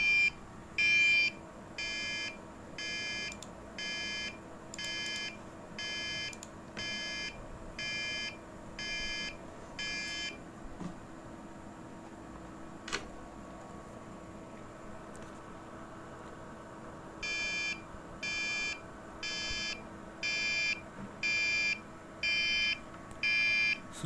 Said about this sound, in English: The alarm will ring for the 30 seconds.